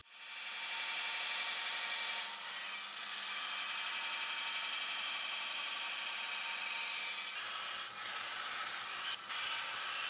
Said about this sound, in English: Using a worn 36 grit ceramic belt, I'll grind the outline.